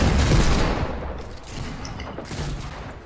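Heavy shotgun fire in a multiplayer video game, a loud booming blast that opens the clip and decays into a rumbling tail, followed by fainter shots.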